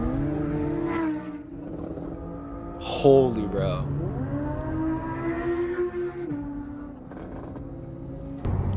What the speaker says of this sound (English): That was a car popping, bro.